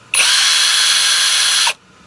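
A SCANS 20V cordless impact driver spins at its high speed setting, producing a loud, steady, high-pitched whine that starts abruptly, holds evenly for about a second and a half, then cuts off. No one speaks.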